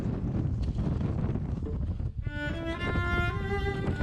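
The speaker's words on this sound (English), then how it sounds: "The wind was strong, but we continued on in hopes of it dying down" Strong wind roars steadily across an exposed winter summit climb on Mount Hood in Oregon, a loud broadband rush buffeting the microphone throughout, with a brief lull before tonal whistling layers in over the gusts.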